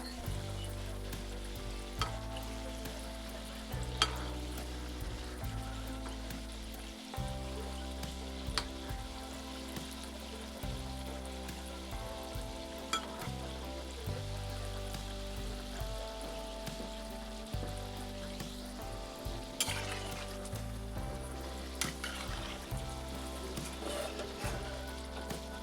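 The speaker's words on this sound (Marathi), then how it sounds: "मस्त असे छान फ्लफी असे हे गुलगुले तयार होतात आणि तेलावरती पोहायला लागतात." Gulgule, fluffy sweet dumplings, deep-fry in hot oil, making a steady, dense sizzle and bubbling that runs on without a break at moderate loudness, with no voices.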